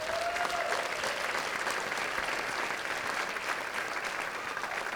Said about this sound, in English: So let's give Saxe a round of applause.